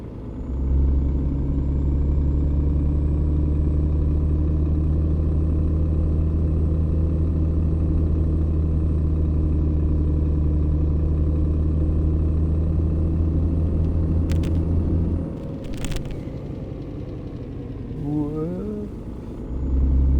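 Truck engine in a driving video game, a steady low rumbling drone that holds for about fifteen seconds, then drops and wavers as the truck slows, with a few brief clicks and a rising whine near the end.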